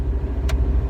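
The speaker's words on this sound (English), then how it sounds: "I turned my car on" A car engine turns over and keeps running, a steady low rumble with a brief higher burst midway, close by in hot weather.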